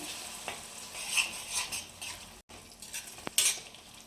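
Amaranth leaves frying with ginger garlic paste hiss softly in a pan while a spoon scrapes and stirs at intervals, with a few sharp utensil clinks near the end, quiet and close with no speech.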